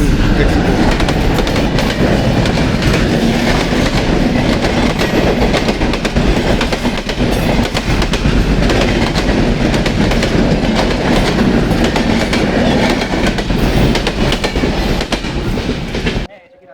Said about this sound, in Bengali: কাকতালিভাবে ট্রেনটাও চলে আসলো